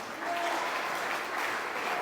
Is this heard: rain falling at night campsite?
no